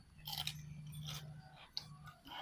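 Crunchy raw vegetable being bitten and chewed alongside a shrimp-paste chili dip, several close, quiet crisp crunches in irregular bursts.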